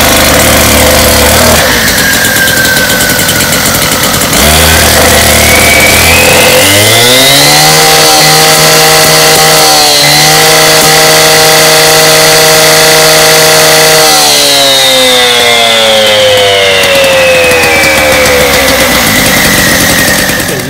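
A Husqvarna K770 petrol power cutter starts and runs, its loud two-stroke engine sputtering to life, then revving up to a high steady whine, holding, and easing back down, close and alone.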